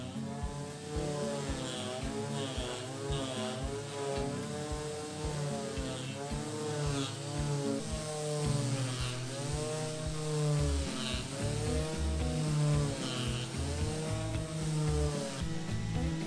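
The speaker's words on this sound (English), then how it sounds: "I'll sand it with a rough 120 grit sandpaper." Sanding the back face of a monkey pod hardwood table board with rough 120-grit sandpaper under a power sander, a loud, steady machine whine with rhythmic pulsing strokes running continuously throughout.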